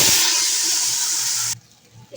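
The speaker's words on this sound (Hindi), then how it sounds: "अब हम डाल लेंगे पानी।" Water pours into a hot pan of oil-roasted salt and cumin, a loud sizzling hiss that runs for about a second and a half and then drops away.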